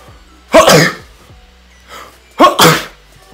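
Two loud, close sneezes ring out about two seconds apart, each a sharp burst, with a quiet room and a faint murmur between them.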